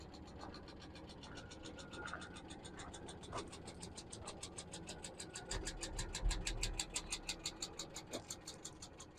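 Engine of a 2022 Vermeer BC700XL brush chipper with a centrifugal clutch, running steadily and rising in revs, with a rapid rhythmic mechanical chatter building toward the end, close and fairly loud.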